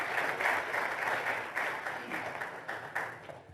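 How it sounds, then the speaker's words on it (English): Audience applause for the presenters at a televised panel discussion on AfCFTA implementation in Ghana, a steady wash of many hands clapping with slight surges, moderately loud and close, with no talk over it. "a round of applause for all our presenters."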